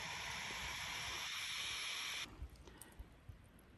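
Water boiling in a metal bottle over a campfire hisses steadily and loudly for about two seconds, then cuts off and leaves faint crackles and pops.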